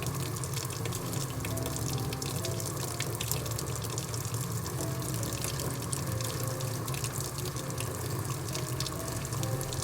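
Hot water running steadily from a tap fed by a newly swapped combi boiler, a constant close rush and splash with no breaks and no voices.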